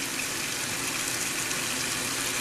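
Water runs steadily from a faucet during handwashing, a constant hissing gush filling the whole stretch with no voices.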